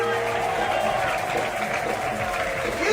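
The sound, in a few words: congregation applause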